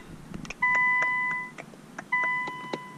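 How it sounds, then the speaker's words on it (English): A Nissan GT-R chimes during an ignition reset, giving two separate sets of steady electronic beeps with short clicks and faint handling noise between them. "Let the car beep at you for a few seconds."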